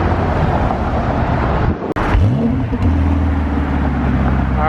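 Lamborghini Gallardo pulling away hard from a car show: a loud, close engine roar that drops briefly, then climbs steeply through revs as the car accelerates away.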